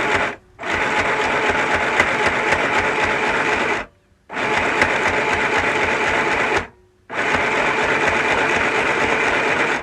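A sewing machine runs in steady, fast bursts, stitching continuously, stopping briefly twice before starting up again, close and loud.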